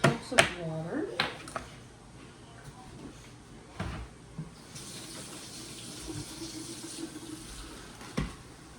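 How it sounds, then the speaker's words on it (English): Water poured for a pie crust in a home kitchen, a soft running stream in the second half with faint clatter of utensils and a few brief knocks, with a person talking near the start. "I'm going to do 2 cups of water."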